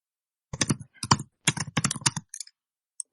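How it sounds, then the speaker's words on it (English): Close keys on a computer keyboard clatter in short bursts of quick typing, with brief pauses between runs and a final lone keystroke. "hear typing. Who's typing? Not me. That keyboard is mic'd."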